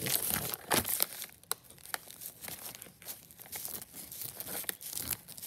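Scissors snip through plaster cloth used for model railway layout scenery, making soft crinkling, crunching cuts in a quick irregular series close by. The sound is fairly quiet.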